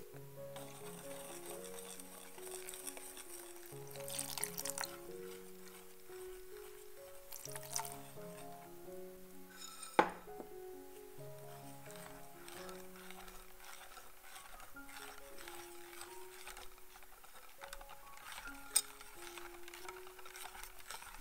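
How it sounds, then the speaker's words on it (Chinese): Milk is poured slowly, a little at a time, into waffle batter and stirred, giving soft wet drips and squishy mixing sounds that stay faint beneath steady background music. "缓慢且分次的加入牛奶"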